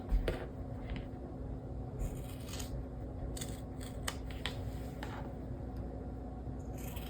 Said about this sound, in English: Now we're going to cut out our corners.